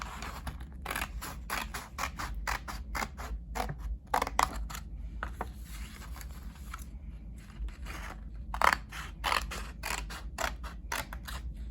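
Scissors snip through paper to cut out cloud shapes, with many crisp cuts landing in quick, uneven bursts close by and no voices.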